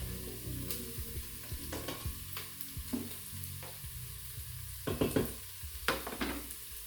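Minced garlic sizzles steadily in a hot pan while a utensil stirs and scrapes it in irregular bursts, close and fairly quiet, with no talking.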